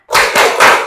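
A classroom of fifth-grade pupils claps the 'tepuk semangat' chant, three quick, loud bursts of clapping packed into under a second.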